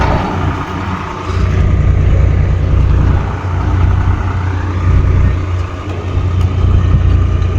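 A John Deere tractor engine running under load, a loud, steady low diesel drone that surges slightly in waves, close by with no voices over it.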